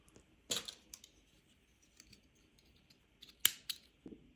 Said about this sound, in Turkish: Şimdi ipimi bir miktar şu kısmı büzebileceğim kadar bırakıp kesiyorum